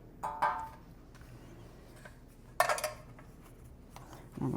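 A metal baking pan for cinnamon swirl bread is pulled out and handled in a home kitchen, giving two short bursts of clanking and rattling a couple of seconds apart, separated by quiet room tone.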